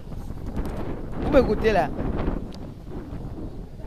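Gusty wind buffets a microphone outdoors, a steady low rumble swelling in bursts under someone talking and singing.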